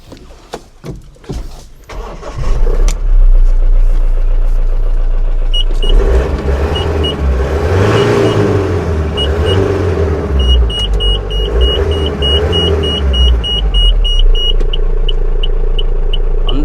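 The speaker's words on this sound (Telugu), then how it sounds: "ఒకసారి మీకు ఇంజన్ కూడా స్టార్ట్ చేసి చూపిస్తాను" A Mahindra Bolero MaXX 1.4 engine, driven only 1000 km, cranks and starts after a few clicks, then idles steadily with a low, loud rumble and faint beeping chimes.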